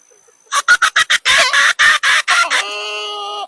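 A rooster lets out a rapid run of loud, close clucks that build into a long sustained crow, alone against a quiet outdoor background.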